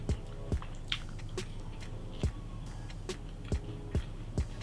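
Crunchy oven-baked garlic bread from Coles, bought ready-made and buttered, chewed close to the microphone, with steady wet chewing and a string of sharp crisp bites spaced through a home-cooked lamb chop meal.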